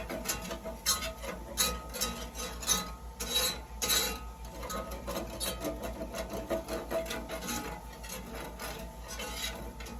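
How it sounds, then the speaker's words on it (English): Flour is whisked into a pan sauce of butter and chicken drippings, producing quick, rhythmic metallic scraping and tapping of a whisk against the pan, close and fairly faint, continuous throughout. "Whisk that all in real good."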